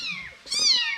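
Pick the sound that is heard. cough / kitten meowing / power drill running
kitten meowing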